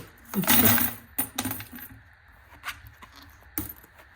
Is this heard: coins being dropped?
yes